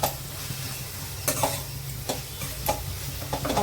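A spoon stirs ginger garlic paste around a hot pan over a steady sizzle and fry, with a few sharper scrapes and clinks against the metal at intervals, close and alone.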